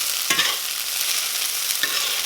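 A spoon stirs tomato relish through sizzling brown butter in a pan, giving a steady hiss with a couple of brief scraping strokes.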